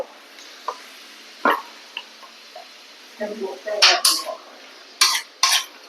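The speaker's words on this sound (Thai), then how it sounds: "ต้องคนรอให้เดือดรอให้ร้อน" Squid stir-fry with basil and oyster sauce being stirred in a hot pan, with scattered metallic scrapes and clinks of a utensil against the pan, sharper clusters toward the end, over a faint sizzle.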